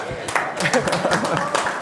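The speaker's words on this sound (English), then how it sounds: "We're clapping for reading." Audience members at a talk clap in quick, distinct strokes mixed with a voice and crowd murmur, a short lively patter that lasts under two seconds.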